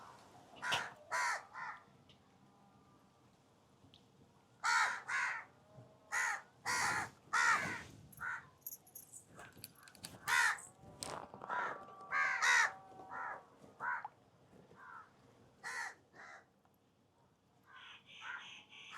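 Crows caw and squabble in a home garden, a series of harsh, loud calls in uneven bursts, some overlapping, close by with short pauses between.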